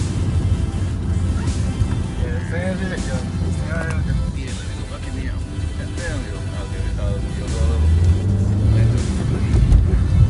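A car drives on a track with a continuous engine drone that swells near the end, with people talking over it throughout.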